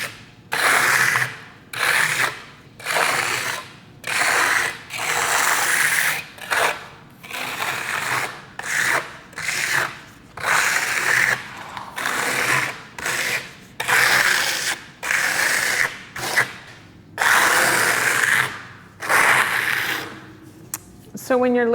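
A trowel drags SkimStone across a concrete veneer countertop in repeated rasping, scraping strokes, each about a second long with short pauses between, close and fairly loud, no talk.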